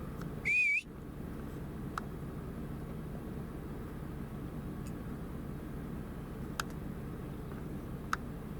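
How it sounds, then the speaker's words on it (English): A single faint, distant whistle sounds outdoors, a brief rising-then-steady tone early on, set against a low steady rumble of background noise with a few tiny clicks afterward. "You can faintly hear a whistle."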